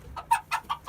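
A Bantam Spangled Hamburg hen clucking, four or five short close clucks in an uneven rhythm against a quiet background.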